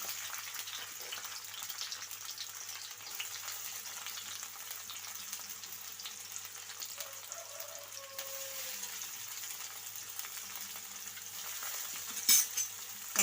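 Green chilies and onion pieces fry in hot oil for a broad bean and tomato curry, a faint, constant hiss of sizzling that holds steady, with a couple of utensil knocks near the end.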